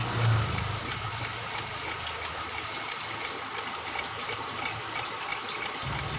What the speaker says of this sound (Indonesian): dengan menekan tombol on off sekali saja, maka mesin ini akan hidup